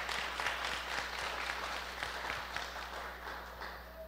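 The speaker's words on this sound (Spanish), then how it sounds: "yo les voy a pedir un aplauso porque ha sido un trabajo" An audience applauds at an event, a steady, dense patter of many hands clapping that carries evenly throughout and eases slightly toward the end.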